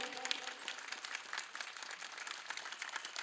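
A kirtan audience claps in a fast, dense patter that goes on throughout, faint and distant with no pauses.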